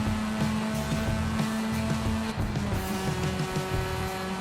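Racing car engine in the Need for Speed Heat video game, pushed to maximum speed, holds a steady, loud high-revving drone with sustained harmonic whine throughout, no talk.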